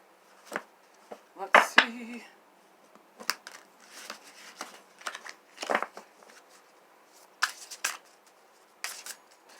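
A tarot card deck is shuffled by hand in short bursts of crisp riffling and flicking, separated by brief pauses, close and fairly loud.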